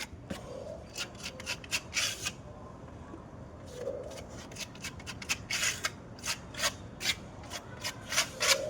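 Crack filler chemical being worked into cracks in a wall, heard as repeated short scraping and rubbing strokes in irregular bursts, fairly close and moderately loud, with no voices.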